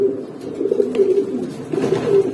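Grizzle racing homer pigeons coo in low, rolling phrases, the soft throaty calls repeating close by and steady throughout with no talk.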